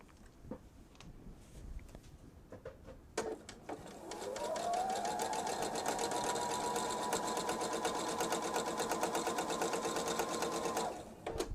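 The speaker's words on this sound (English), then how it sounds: "why are you sewing with the bottom fabric on the top this time?" A sewing machine stitching a quilt fabric seam for a jelly roll bag, starting after a few faint clicks and handling noises, then running steadily with a rapid, even mechanical whir for several seconds before stopping.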